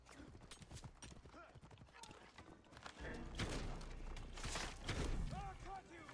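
Horse hooves clip-clopping in the Assassin's Creed Origins video game, a quick uneven trot of close footfalls with some clatter mixed in, swelling louder partway through.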